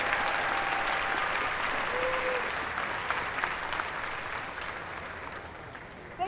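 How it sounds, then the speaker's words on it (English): An audience claps steadily at a dual enrollment scholars' recognition ceremony, dense applause that holds throughout and slowly fades toward the end. "Round of applause for our Jump Start to College scholars."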